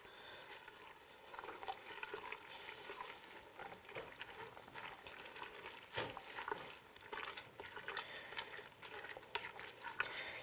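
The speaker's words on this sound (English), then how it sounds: "Now I'm going to mix in my spinach." A spoon stirring spinach into tortellini soup in a pot, giving a soft, steady wet scraping and bubbling close by, with no talk.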